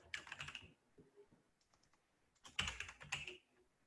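Two bursts of quick keystrokes on a computer keyboard as code is typed, clattering clicks separated by a quieter pause with a few soft taps, close and alone.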